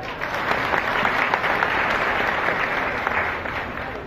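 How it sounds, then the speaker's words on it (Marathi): Sustained applause from a crowd at a Phaltan BJP political gathering, honouring construction workers' union officials; steady dense clapping throughout, fairly loud and close. "बांधकाम कामगार संघटनेच्या सर्व पदाधिकाऱ्यांच्यासाठी एकदा टाळ्या होत्या"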